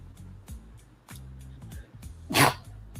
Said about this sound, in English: sneezes get harder when you get older